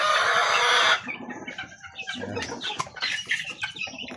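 Chickens and young chicks cluck and cheep close by, a dense burst of bird calls at the start giving way to scattered, overlapping clucks and peeps with no talking.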